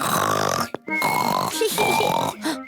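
A voice imitates loud snoring, with long rasping, snorting breaths repeated in a rhythmic rise and fall.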